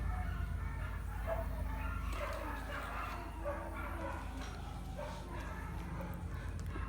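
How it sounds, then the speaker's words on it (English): Dogs barking and yipping at a distance over a steady outdoor background, in scattered, excited bursts. "Oh, the dogs go crazy."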